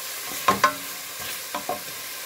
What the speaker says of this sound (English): And just quickly fry it before I add my pumpkin and liquid.